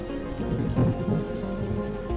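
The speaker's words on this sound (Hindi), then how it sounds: "तभी अचानक बारिश शुरू हो जाती है।" Steady rain hisses in a cartoon scene, a continuous dense patter with a low rumble underneath, moderately loud and unbroken.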